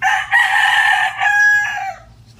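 Brahma chicken crowing close by, one loud drawn-out cock-a-doodle-doo with a brief cluck, heard alone.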